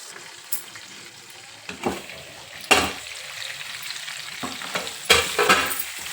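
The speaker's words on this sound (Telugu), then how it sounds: "స్టవ్ స్లిమ్లనే పెట్టుకొని ఇవి కొంచెం మగ్గనియాలి" Brinjal pieces frying gently on a low flame, a steady soft sizzle broken by intermittent stirring scrapes and clinks of a utensil against the pan, with no talking.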